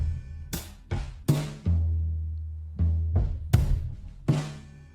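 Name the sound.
drum loop time-stretched to slower tempo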